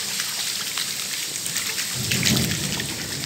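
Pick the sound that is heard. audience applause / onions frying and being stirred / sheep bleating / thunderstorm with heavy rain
thunderstorm with heavy rain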